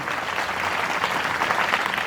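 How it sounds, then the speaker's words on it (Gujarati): An audience at a Gujarati cultural fair at a university claps continuously and fairly loudly, a dense, even patter of many hands for about two seconds. "ભાઈ જોરદાર પાછળ ઉડી તાળી થઈ જાય"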